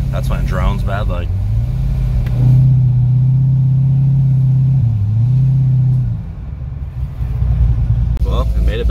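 A cammed LS3 C6 Corvette idles with its mufflers closed, giving a steady, deep, droning rumble that holds for several seconds. Talk comes before and after it.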